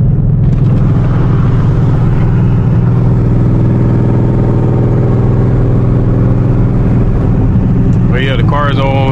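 Ford Mustang GT 5.0 V8 with a loud dump exhaust on a drag-pack, 93-octane tune, a heavy steady low rumble close up throughout, with a brief voice near the end.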